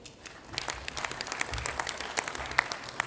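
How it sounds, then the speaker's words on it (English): Delegates at a football confederation general assembly applaud after a resolution is adopted, a brief burst of scattered, fairly faint clapping from the hall with sharper individual claps standing out. "Can we please clap hands for them?"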